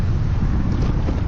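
Strong coastal wind at Portsmouth buffets the microphone with a steady, close, low roaring rumble that never lets up.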